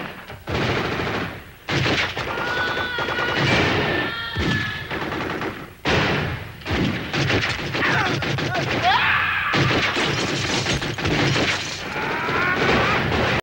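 Rapid gunfire from an action scene in the 1994 film The Fantastic Four, firing at a sewer pipe: loud, dense bursts of shots and crashing impacts that run almost continuously with only short breaks.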